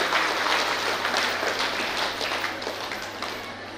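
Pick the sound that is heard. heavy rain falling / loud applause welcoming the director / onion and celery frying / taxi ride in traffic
loud applause welcoming the director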